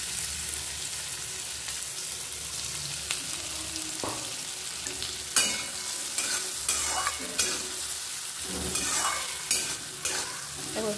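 Onion fries in a generous amount of oil, giving a soft, steady sizzle under scattered stirring scrapes and light clatter from a home kitchen, with no voices.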